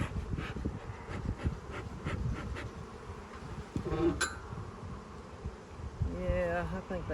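Honeybees buzz inside an opened hive at a chemical-free apiary, a steady close insect drone running throughout, with some handling noise and a brief sharp tone partway through.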